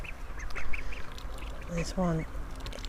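Ducks in a field enclosure quack in a short burst of loud nasal calls near the end, with a person talking over the scene and ducklings nearby.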